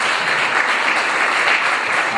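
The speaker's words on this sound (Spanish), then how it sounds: "Vamos a darle un fuerte aplauso" A church congregation claps warmly to welcome a visitor during a service, a thick, even wall of applause sustained for a couple of seconds, loud and close with no talking over it.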